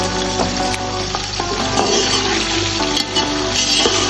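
Onions frying in hot oil for chicken biryani, a loud, continuous close sizzle and crackle with occasional stirring scrapes throughout.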